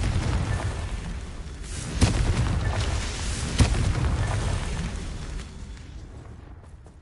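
Explosive Confringo spell blasts in Hogwarts Legacy, two sharp booms a second and a half apart that each burst out over a rumbling low background and then fade.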